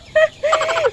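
Two quick, close, high-pitched calls from farm chickens, a short cluck followed by a longer drawn-out squawk.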